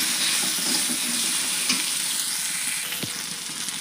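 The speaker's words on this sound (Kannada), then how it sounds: "ಈ ಥರ ಹುರಿಯಾಕತ್ತಾವ. ಬೆಂಡೆಕಾಯಿ ಭಾಳ ಎಳೆಯದಾವ ನೋಡ್ರಿ, ಲಘು ಹುರಿತಾವ." Tender okra fries lightly in oil in a pan, a steady loud sizzle and crackle running throughout with a few stirring scrapes and no talk.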